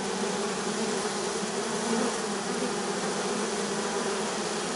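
Honey bees buzz continuously in a dense, steady drone, close and fairly loud, with no pauses and no voices.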